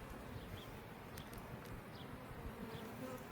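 Honey bees buzz around an open hive during an inspection on a hot day, a soft, continuous drone with individual bees zipping past now and then, no talking.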